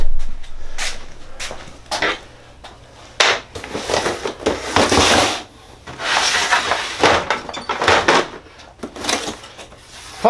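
A drawer on a Festool MW1000 mobile workstation is handled, with repeated sliding, rubbing and knocking bursts in an irregular rhythm, close and fairly loud, with no talking.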